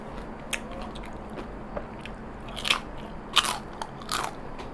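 Crisp fried wonton bitten at close range, giving a few sharp crunchy bites with brief crackles spread over a few seconds against a quiet room background.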